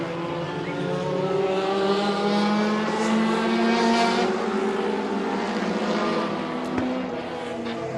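Race cars roar around a dirt track at a Seven Rivers Racing feature, a loud sustained engine drone with pitch rising and falling as the pack passes close by, no talk.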